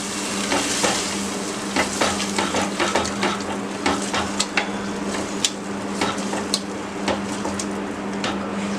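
Boiled chickpeas stirred into spices frying in a pan for Amritsari pindi chana: a steady close sizzle with repeated scraping and tapping strokes of a spoon against the pan.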